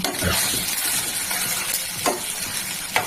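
Egg and onion bhujia with green chilli frying in oil makes a loud, continuous sizzle, stirred nonstop, with scraping strokes of the spoon against the pan at intervals.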